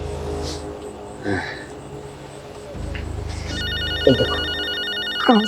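A telephone rings twice in short repeating bursts during a scene of a Bangladeshi drama, with a low hum underneath and brief voices between the rings.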